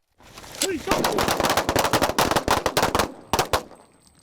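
Volleys of handgun fire during a police shooting drill ring out in quick loud bursts, clustered shots with brief pauses, near and sharp, with shouted commands around them.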